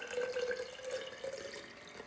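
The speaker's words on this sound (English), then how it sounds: "I'm just going to be filling it up with water only." Fresh water pours steadily into a protein shaker, a soft, close, continuous trickle with a faint rising tone and no voices.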